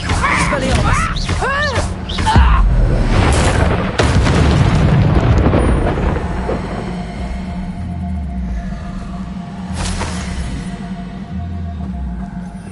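A deep blast and rumbling boom from the Expelliarmus spell in the Hogwarts Legacy game, loud and full, trailing into a long low rumble amid game effects and a voice calling out spells.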